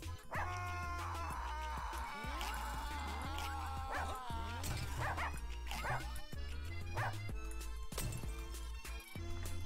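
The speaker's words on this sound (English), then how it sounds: "If you bark, you lose health faster." A dog in the video game Russian Subway Dogs barks and yips repeatedly in quick bursts over a continuous musical soundtrack, loud and close, with no talking.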